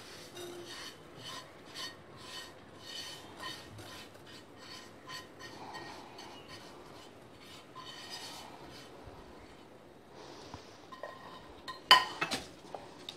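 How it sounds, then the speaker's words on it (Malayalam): Dry semolina poured and scraped into a tea-making pan for rava payasam, a steady run of soft rasping, rubbing strokes with faint metallic clinks, ending in a sharper clatter near the close; no talk. "അതിലേക്ക് നമ്മൾ ഈ റവ ഇട്ട് കൊടുക്കുക."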